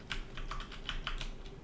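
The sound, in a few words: computer keyboard keys being pressed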